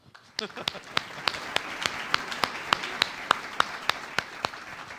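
Rhythmic hand claps ring out at a steady beat, sharp and evenly spaced, over a busy background murmur, from a church congregation.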